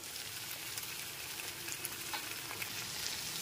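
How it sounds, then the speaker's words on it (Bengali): Pumpkin and drumstick curry simmers and fries in a pan with a soft, continuous sizzle while being stirred gently from top to bottom. "এবার ওপর থেকে নিচে খুব ভালো মতো একবার নেড়ে নিলাম।"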